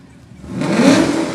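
A 2015 Chevy Camaro 2SS at a holiday parade gives a low engine rumble that swells into a brief rev over about a second, heard outdoors in the open air with no talk.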